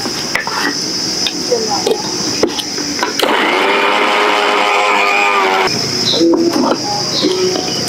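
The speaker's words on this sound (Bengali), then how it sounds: "এবার আমি আবারও আরগুলো মিক্সিতে দিয়ে গুঁড়ো করে নেব" Electric mixer grinder whirring as it grinds mustard seeds, a steady motor drone for a few seconds between softer clatter and handling sounds, close and fairly loud.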